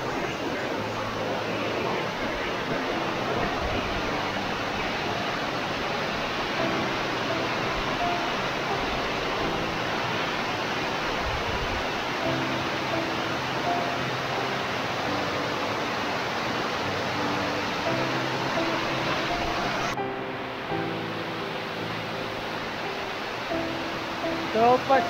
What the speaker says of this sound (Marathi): जवळपास 100 फूट पेक्षा जास्त उंच धबधबा आहे